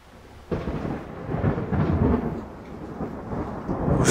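Rumbling thunder in a thunderstorm just before rain, a low roll that swells suddenly after a quiet start and lingers steadily, with rain hissing faintly beneath it.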